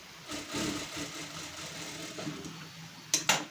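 A sewing machine runs in a short continuous burst while stitching a folded hook strip on a bowl-style blouse, a soft mechanical whir that ends in two sharper clicks, close and quiet.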